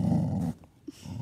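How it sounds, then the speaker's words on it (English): A pet dog's low growl, close and fairly loud for about half a second, then a quieter stretch with a brief snort and the growl starting again at the end. "Are you growling?"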